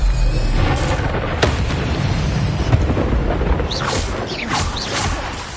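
A fire spell cast in the Hogwarts Legacy video game whooshes and booms amid a dense, rumbling flurry of game effects, with bright crackling bursts toward the end.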